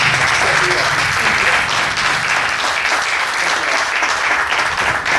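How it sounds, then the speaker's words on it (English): A room full of people at the Phoenix Club gives a sustained, loud round of applause after an Iowa Democratic leaders' event, and voices murmur beneath the dense clapping throughout. "Let's have a round of applause for these guys."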